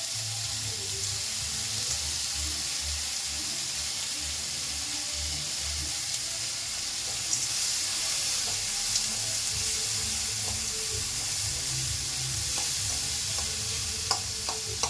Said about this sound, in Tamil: தக்காளி வதங்கினதும் நம்ம அடுத்தது பெருங்காயம் போட்டுடலாம்.